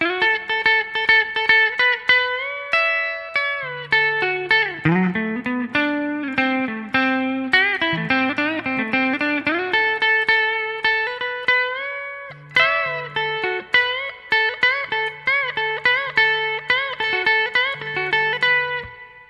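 A lead electric guitar plays a lively melodic solo alone, with quick plucked notes, slides and bends ringing out over about twenty seconds.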